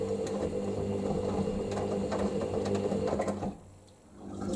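A Hoover SIX AAA Whisper 1600 washing machine drains partway through a 60°C mixed fabrics cycle, making a steady mechanical hum and whir with faint rattles that drops away near the end, and no one speaks.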